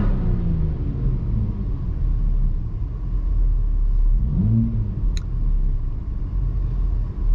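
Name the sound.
Volvo P3 3.0L engine revving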